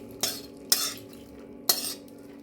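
Three sharp metallic clinks of kitchen utensils against a pot ring out at uneven intervals, close by, over a quiet background, as boiled drumstick flowers are strained from hot water.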